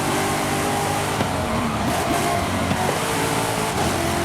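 V8-powered Renault 8 restomod accelerating, a loud continuous engine roar with rising pitch across the whole short stretch, no talk.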